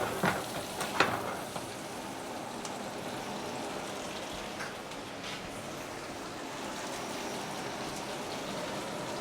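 Romanesco sizzles in a hot pan, a steady soft frying hiss with a few brief clatters at the start, faint and continuous with no talk.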